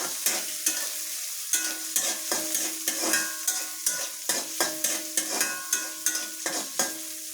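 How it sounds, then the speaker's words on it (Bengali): Onions and green chillies frying in a wok for a puti fish dish, with rapid rhythmic scraping of a spatula stirring over a constant sizzle, close and with no talk. "আমি পেঁয়াজ কাঁচামরিচটা ভালোভাবে ভেজে নেই"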